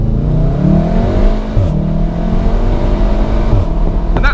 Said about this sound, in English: I'll start the ignition.